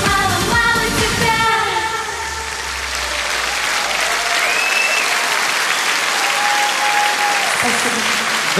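A large audience claps and cheers for a pop group, dense sustained applause that opens over the last notes of music and continues loud throughout, with a faint voice calling out.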